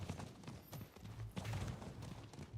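A standard horse's hooves clip-clop at a steady gait in the video game Diablo 4, soft and continuous under a noisy game background.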